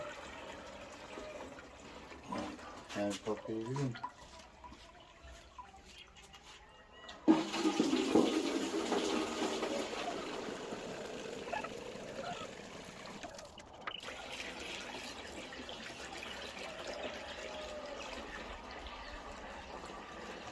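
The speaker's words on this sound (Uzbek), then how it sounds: "Mana bunda shirillab chayqalib aralashadi-da." Water sloshes and gushes while pesticide is mixed in a sprayer tank at a home orchard. A sudden loud rush of liquid starts partway through and settles into continuous churning, after quieter scattered handling noises.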